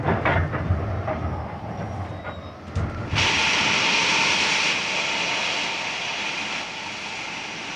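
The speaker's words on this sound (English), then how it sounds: "The train's slowing down." A train running on rails and slowing down gives a continuous heavy rumble with a few knocks, then a bright, steady hiss of brakes or air takes over midway and keeps going with no voices.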